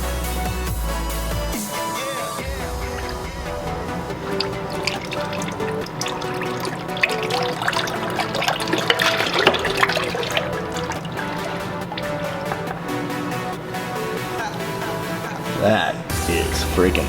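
Dirty engine oil drains from a 2021 Lexus IS350 during an oil and filter change, a continuous close liquid pour and trickle that runs steadily throughout with brief clinks.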